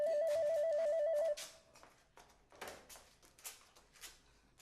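A telephone rings with a warbling electronic trill for over a second, then cuts off, followed by clattering handling noises as it is picked up.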